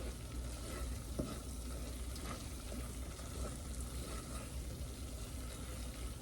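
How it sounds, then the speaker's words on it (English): Chicken pot pie filling is stirred as poultry seasoning is blended in, producing a steady, even frying hiss with faint scraping strokes throughout, close and unbroken, with no voices. "then you stir that in until it's blended really good"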